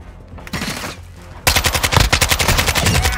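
In Call of Duty Modern Warfare II, sustained automatic gunfire crackles in loud rapid bursts of evenly spaced shots after a quieter opening, with a single brief shout near the start.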